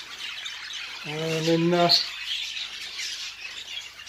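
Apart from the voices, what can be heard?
cock birds and hens calling in breeding loft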